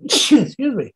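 A single sharp sneeze from a person, loud and close, followed at once by a short spoken apology from a voice.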